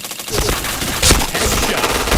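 Rapid gunfire from the Point Blank shooter game, a dense burst of shots running throughout with a sharper crack near the middle marking a headshot, loud and continuous.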